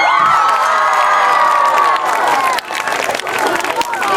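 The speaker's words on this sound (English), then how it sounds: "And a big cheer for James and Brett." A crowd at a bicycle stunt show cheers loudly, with excited shouting and children's voices swelling together and then dipping briefly before cheering and clapping carry on.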